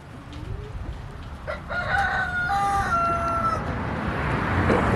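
A big black rooster, a survivor of a fox attack, crows once nearby in a long, drawn-out cock-a-doodle-doo over steady outdoor background noise, with a short cluck just before it.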